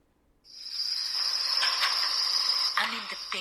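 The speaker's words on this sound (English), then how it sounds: "I'm in the biggest cricket farm in Italy, perched by the Alps near Turin." Crickets at a large cricket farm in the Alps near Turin, Italy, shrill in a steady continuous chorus that starts abruptly and holds close and fairly loud, with no talking.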